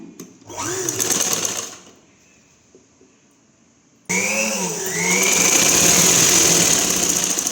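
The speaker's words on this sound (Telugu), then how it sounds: "ఈ షోల్డర్ కానించి ఇలా పట్టుకొని ఇలా పెట్టేసి ఒక స్టిచ్చింగ్ అయితే వేస్తున్నాను" A sewing machine stitches along the shoulder of a long umbrella frock, running in two bursts: a short whirring run, a pause with faint handling sounds, then a louder, steady stitching run.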